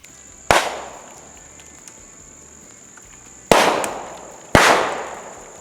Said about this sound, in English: when you're burning bamboo, it makes a lot of popping noises because all these nodes are moist, trap air.